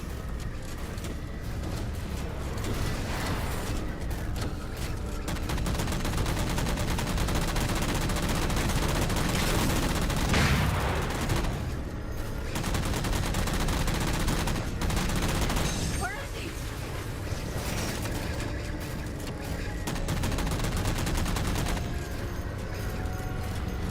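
Vehicle missiles and gunfire in the Halo 4 video game make a dense, loud, continuous barrage of rapid shots and blasts that runs the whole time, with a few brief lulls.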